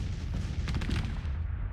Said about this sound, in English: I want that artillery off my front line, blasting holes in me.